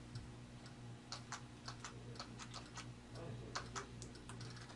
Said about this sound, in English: I'll type some text using the Perkins-style Braille keyboard on the top of the Braille display.